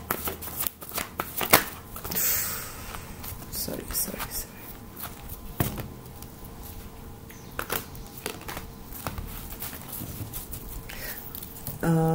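Angel blessing oracle cards are shuffled in a tarot reading, a steady papery riffling and patter that runs the whole time, close and moderately loud, with faint talk at moments.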